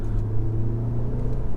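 A 2015 Audi Q5 accelerating hard from inside the cabin, a steady loud low engine rumble with a strong droning tone that holds throughout, no voices over it.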